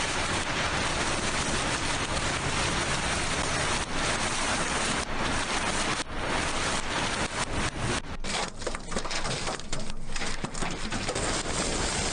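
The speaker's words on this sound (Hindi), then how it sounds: "लाहौर में बादल खुलकर बरसे।" Heavy rain falls steadily over Lahore in a dense, unbroken hiss that fills the whole clip, loud and close, with no voices.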